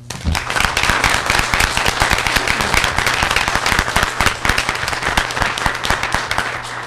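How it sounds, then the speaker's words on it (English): Loud, close applause from a sizable audience at a city council meeting, many hands clapping rapidly and continuously throughout. "Let's give them a round of applause."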